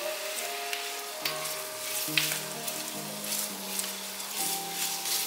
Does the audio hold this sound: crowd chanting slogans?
no